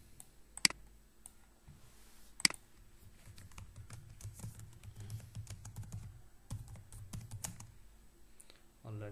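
Computer keyboard typing while a website layout is built in Elementor: two sharp loud key clicks early on, then quieter, scattered keystrokes and light clicking through the rest, close and unaccompanied by talk.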